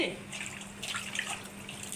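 Tamarind is swished and rinsed by hand in a bowl of water, giving soft splashing and trickling close by, with faint talk underneath.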